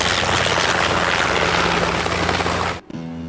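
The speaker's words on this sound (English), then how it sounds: "I'm on a helicopter." Steady, loud helicopter rotor and engine roar filling the space over Lake Eufaula, cutting off abruptly near the end to a low hum.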